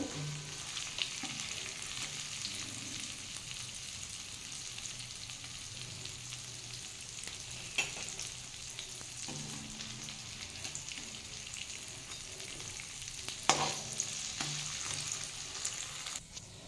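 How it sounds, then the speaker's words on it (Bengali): Masoor dal and coriander leaf pakoras deep fry in oil, making a faint, even bubbling hiss that runs throughout with a few soft clicks and taps. "আমি এবার এইভাবেই সব বড়াগুলো ভেজে নেব।"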